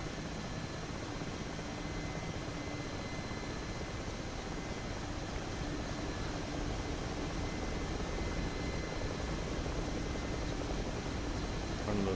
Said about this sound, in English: Fun things about heli flight.